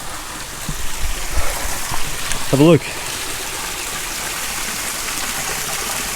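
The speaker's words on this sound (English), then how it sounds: "We've approached a little mini waterfall right here on the trail." Water from a small waterfall on a canyon trail in Kolob Canyons, Zion National Park, rushes and splashes steadily at moderate volume, with someone speaking briefly over it partway through.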